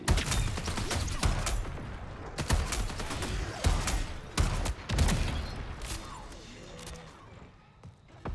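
Booming hand cannon gunfire in the video game Marathon, a handful of heavy shots spaced a second or so apart over a dense, noisy background of game sound.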